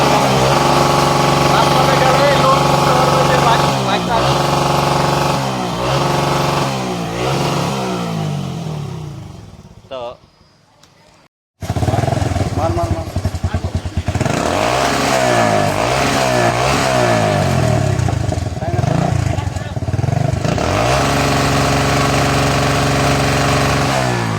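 A loud Yamaha MT-15 BS6 motorcycle engine with a throaty modified exhaust revs repeatedly, dips to near silence briefly, then roars back with more hard revving.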